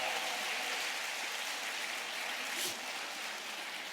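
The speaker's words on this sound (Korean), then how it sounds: "여러분 누구지 알고 박수 치시는 거예요?" A church congregation claps together at a morning Bible study revival gathering, a steady wash of applause held at even loudness throughout with no voices over it.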